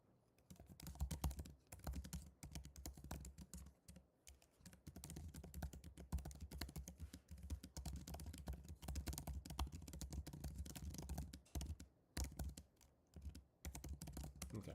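Continuous, fairly quiet typing on a computer keyboard, with rapid irregular keystrokes clattering on and off for the whole stretch and a few short pauses.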